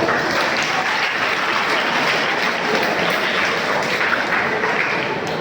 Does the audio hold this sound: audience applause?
yes